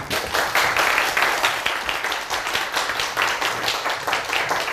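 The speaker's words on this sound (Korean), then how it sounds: "오늘 소중한 시간을 주신 이사님께 큰 박수 부탁드립니다" A lecture audience applauds a speaker in dense, steady clapping that holds at an even level for several seconds, with no distinct voices.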